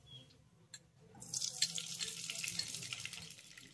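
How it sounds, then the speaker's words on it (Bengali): Four tablespoons of ghee go into a kadai still hot from frying semolina for carrot halwa: quiet at first with a small clink, then a close sizzle and crackle that swells and holds steady. "এবার ওই একই কড়াইতে আমি আবারও দিয়ে দেব 4 টেবিল চামচ ঘি।"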